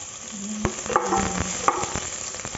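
Onions hit hot cooking oil and sizzle continuously, with a few sharp crackles and utensil clinks close by, no talking.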